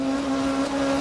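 Rally car engine in the 1995 British Rally Championship, heard from inside the car as a loud, steady, strained drone that dips in pitch at the very end, with no talk.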